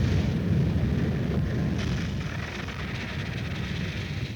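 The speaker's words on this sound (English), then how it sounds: "the portable flamethrower" A portable flamethrower firing during army training, a loud, sustained roaring whoosh that tapers slightly over several seconds, with no talking.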